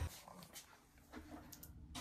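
Excited dogs whimpering indoors: short, faint whines and yips come and go over a low background.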